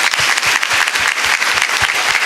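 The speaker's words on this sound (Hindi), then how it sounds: "97 के लिए ताली तो बजा दो यार।" An audience at a spiritual question-and-answer session claps together, a dense round of applause with rhythmic beats standing out, close and loud.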